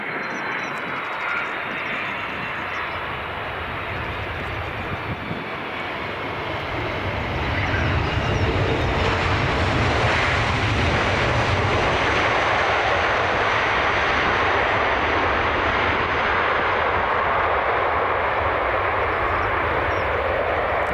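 Jet airliner engines at Edinburgh Airport on a newly started international service, a loud sustained roar that swells around the midpoint and holds steady, with no talk.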